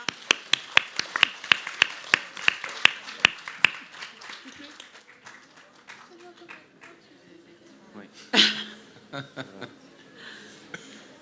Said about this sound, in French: on peut applaudir Victoire